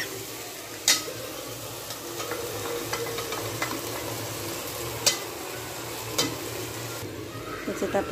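Boiled rice is stirred into cooked masala in a pot, giving repeated scraping and mixing strokes over a gentle sizzle with a few sharp spoon clacks against the metal.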